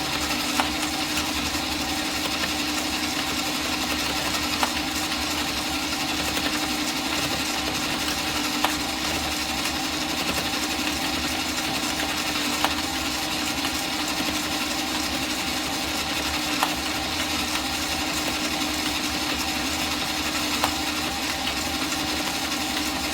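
A yarn-fed machine driven by a screwdriver attachment hums steadily in a continuous mechanical drone, with faint regular clicks ticking through it the whole time.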